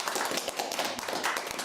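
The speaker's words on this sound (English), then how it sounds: "Big round of applause." Studio audience on a British talk show clapping steadily as a guest is introduced, a dense, even patter of many hands with no voices.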